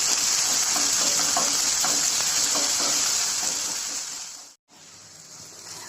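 Dates pickle with chopped green chillies is stirred in a pan over medium heat in a Kerala-style kitchen, giving a steady, bright frying sizzle with soft scraping, then a brief drop to near silence before the sizzle resumes.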